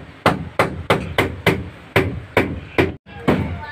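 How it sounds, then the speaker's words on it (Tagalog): Workers building a small house hammer nails in a steady, evenly spaced series of about ten sharp, close strikes with a brief pause near the end. "Tuloy po ang pukpok ng ating manggagawa."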